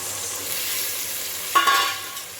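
Ginger, garlic and vegetables sautéing in a pan for vegetable biryani, a steady close sizzle with stirring scrapes and a brief sharper clatter near the end, no talking.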